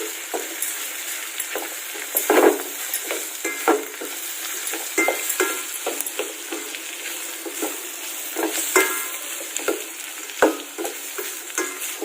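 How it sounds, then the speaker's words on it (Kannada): A tempering with turmeric powder fries in a pan for cabbage masala rice, sizzling steadily while a spoon stirs and scrapes in irregular close strokes throughout. "ಇವಾಗ ಒಗ್ಗರಣೆ ಫ್ರೈ ಆಗ್ತಾ ಇದೆ"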